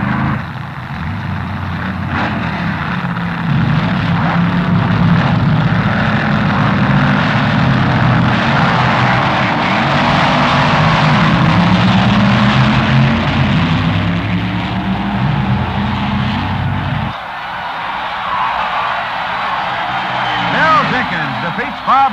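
A 1965 Plymouth and a Camaro roar through a Super Stock final drag race at a 1967 NHRA U.S. Nationals event, loud sustained engine noise throughout with an announcer talking over it.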